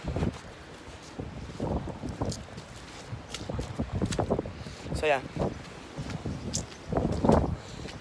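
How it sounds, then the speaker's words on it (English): Strong wind on a northern Iowa beef cattle farm, gusts buffeting the microphone in uneven low rumbles while someone talks over it. "holy shit, it's windy out."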